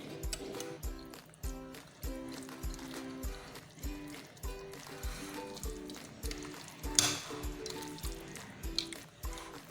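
Raw meat for achaar gosht being mixed by hand with ginger-garlic paste and yogurt, giving close, repeated wet squelching and squishing in a steady rhythm over a faint musical background.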